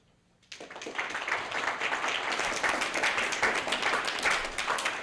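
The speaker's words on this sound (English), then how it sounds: "let's give them one more round of applause, please" Audience applause at a school Black History debate, bursting in after a brief quiet start and holding steady as dense, even clapping from a sizable crowd for the rest of the clip.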